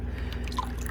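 Plant roots pulled from muddy water during a soil-to-hydroponics conversion, giving a brief close, soft drip and wet squish over a low steady background hum.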